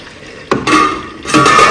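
Okra soup with onions being stirred in a pot: a couple of scraping, sloshing strokes of a utensil, loud and close, the second starting about a second after the first, with no talk.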